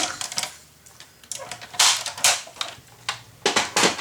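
Scissors cutting paper down to size for a handmade nautical-themed mini album, a series of close, crisp snipping strokes in an irregular rhythm, some sharper and louder than others, with no talk.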